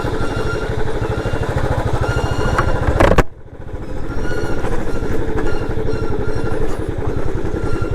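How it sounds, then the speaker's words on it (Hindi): A motorcycle descending a steep off-road mountain track in Uttarakhand, its engine throbbing loudly and steadily close by, with a brief harsh screech near the three-second mark before the rough engine drone carries on. "ये जो ब्रेक्स की आवाज़ आ रही है स्क्रीच करने की"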